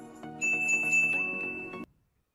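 A bright bell chime plays as a sound effect for the YouTube bell icon, ringing with a sustained metallic tone for over a second before cutting off cleanly into silence.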